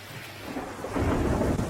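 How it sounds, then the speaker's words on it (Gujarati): Heavy monsoon rain pours steadily over a flooded Gujarat village market, with deep rumbling thunder that swells and grows louder midway. No voices, just a dense, continuous wash of downpour. "ગામે ધોધમાર વરસાદ થતા બજારોમાં પાણી ભરાયા છે"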